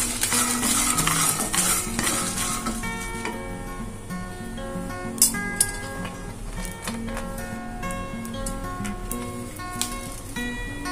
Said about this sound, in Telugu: వాటిని కూడా కొద్దిగా ఫ్రై అవనిద్దాము